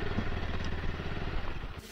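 A motorcycle runs with a steady low, rumbling engine as it is brought in to park at GMC Rajouri. It stays fairly loud and close, then the sound shifts and thins near the end.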